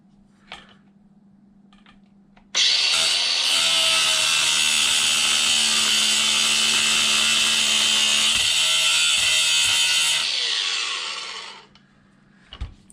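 Power driver or drill running steadily for about nine seconds while a bolt is backed out and driven in on an Arrma Infraction RC car, a loud continuous whine with small clicks before and after.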